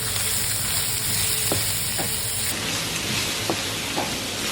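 Sausage pieces fry and get stirred in a pan, giving a constant close sizzle with a few sharp utensil scrapes and taps scattered through.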